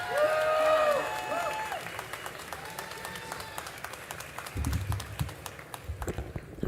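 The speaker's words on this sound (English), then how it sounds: "give her a huge round of applause" A crowd at a drug policy talk claps and cheers loudly at first, then the applause thins into scattered clapping and murmuring noise.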